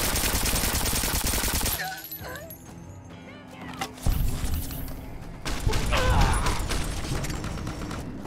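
Gunfire erupts in Fallout: New Vegas at the Mojave Outpost, with dense bursts of shots loud at the start, a quieter stretch, then renewed rapid firing and impacts.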